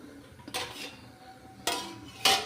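A metal lid clanks onto a cooking pot of kheer on a gas stove, three separate clattering hits spaced over a couple of seconds, near and fairly loud, with no talk.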